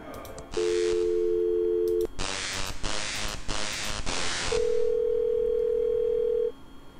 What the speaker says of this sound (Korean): 4417에 전화를 겁니다.